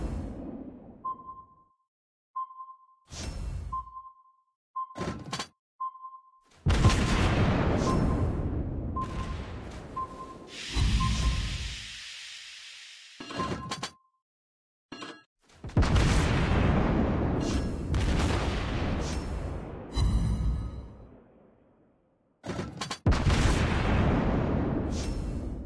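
Naval battle sounds from the World of Warships Blitz mobile game with a Tier VII British cruiser: repeated beeping alert tones, whooshing launches and heavy booming explosions and gunfire bursts, loud and separated by brief silences.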